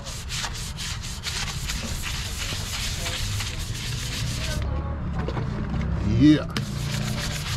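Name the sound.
stiff-bristle brush scrubbing car rims and lug nuts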